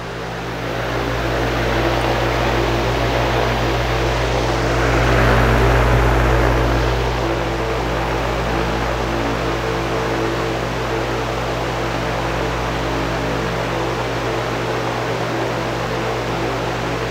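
A noisy electric fan runs at about 1130 RPM, a steady loud hum with a constant low drone and broadband whoosh that swells slightly near the start.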